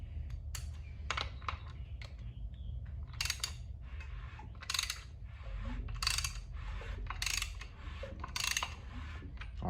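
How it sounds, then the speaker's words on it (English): A ratchet turns the crank bolt of a 5.3-liter Gen 5 LT L83 engine with a new oil pump and front cover fitted, producing bursts of quick close clicking strokes separated by short pauses, fairly quiet with no talk. "we're just gonna spin this motor while the bolts are still just hand tight"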